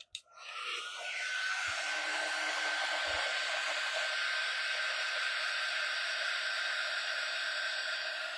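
A hair dryer blows steadily and loudly at close range, drying craft paint on a Halloween tree decoration, with a continuous airy roar after a brief start-up.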